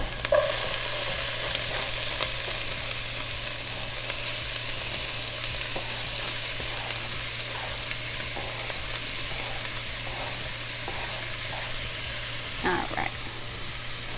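Onions and peppers frying in olive oil in a pan: a constant close sizzle and hiss, with light scraping and a few clinks of stirring over a low steady hum.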